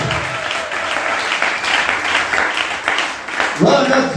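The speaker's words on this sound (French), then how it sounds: "Est-ce qu'on peut acclamer pour Jésus?" A church congregation applauds for Jesus, a dense, steady wave of clapping from many hands filling the room at moderate loudness, with voices mixed in and a shout rising near the end.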